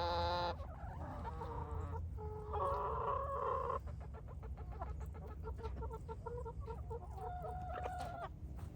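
Backyard chickens cluck and squawk close by in short bursts, with a rooster-like call, over a low steady rumble of background noise.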